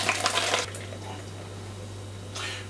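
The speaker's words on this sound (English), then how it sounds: "So we're already spilling a bit out of the jug there." Homebrew wort poured from a boil pot into a jug and spilling over, a splashy rushing gush at the start, a quieter trickle, then another short splash at the end, close and fairly quiet.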